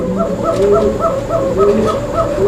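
A female Arabian coca pigeon calls in a repeated series of close, loud cooing notes at a steady rhythm, with faint background noise.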